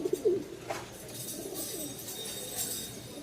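Giribaz pigeons coo in a handful of soft, low throaty calls near the start, then fade to quieter cooing over a faint background hiss.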